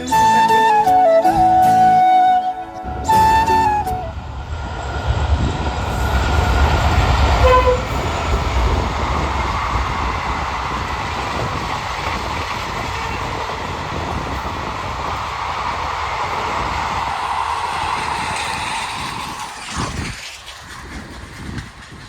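A train horn blares loudly at the start, then a long rumble of rolling wheels and rattling cars passes by close.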